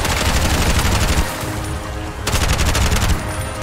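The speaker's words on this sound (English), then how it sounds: "You dare fire at me?" Rapid automatic gunfire in the video game Bright Memory: Infinite, loud dense bursts of fast shots filling the mix, pausing briefly before another sustained burst, with no speech.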